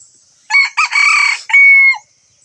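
A rooster crows loudly and close by, one drawn-out call in a few rising and falling segments, with no other sound around it.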